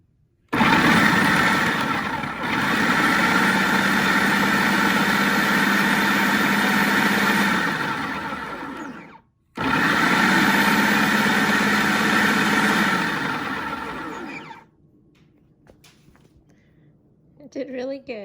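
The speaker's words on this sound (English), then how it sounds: "My little food processor is it's big. It's a big food processor." Old, large food processor pulsing chopped onions with green tops: two loud sustained motor bursts of about eight and five seconds with a steady whirring hum, separated by a brief stop, then quiet.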